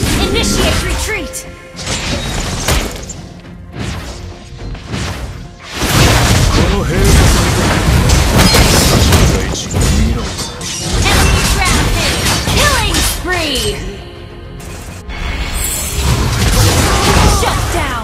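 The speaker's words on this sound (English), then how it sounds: "Your team destroyed a turret!" In a Mobile Legends match, a turret is destroyed amid dense game noise: crashes, booming impacts and whooshing effects pile up continuously, and an announcer voice speaks over the din.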